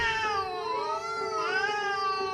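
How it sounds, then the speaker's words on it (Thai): Cats fighting in front of a house let out long, wavering yowls that rise and fall continuously, loud and alone with no voices. "ก็ได้ยินเสียงแมวกัดกันดังมาจากทางหน้าบ้าน"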